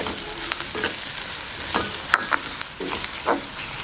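Garlic fries in about three tablespoons of oil for garlic chutney, a soft continuous sizzle broken by occasional light stirring scrapes and clicks from the pan.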